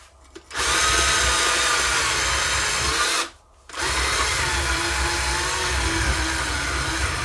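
A cordless screwdriver being run empty to discharge it, whirring loud and steady for nearly three seconds, stopping briefly, then running again continuously to the end, with no voices.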